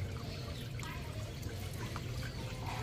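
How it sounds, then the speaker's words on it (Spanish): A thin stream of water falls like a shower, pattering and trickling steadily nearby with a low rumbling background. "está cayendo poquita agua."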